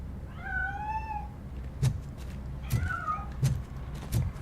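A cat in the RoboCop: Rogue City video game gives two drawn-out meows, the second shorter, over a low background hum, with a few soft thumps and clicks between them.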